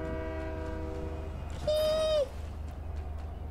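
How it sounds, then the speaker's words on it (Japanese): A train in the video game Fortnite rumbles past with a low steady roar, and a single sustained horn blast sounds midway over the clatter, with no talk. "電車が。"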